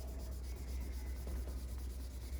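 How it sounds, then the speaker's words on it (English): Wet sanding on a car hood with 1500 grit wet sandpaper, done in small strokes, gives a steady, soft, close rubbing hiss that continues without pause and has no talk over it. "So I'm gonna sand that just a little bit more."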